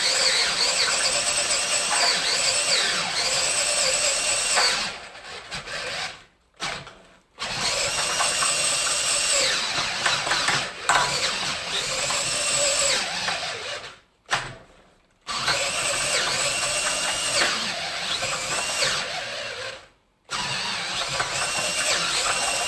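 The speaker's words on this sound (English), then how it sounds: "So I just wanted to prove you can do these by hand with a hand drill." A handheld drill bores holes for a clamping jig in loud, whirring bursts, with several short pauses where the motor stops and restarts.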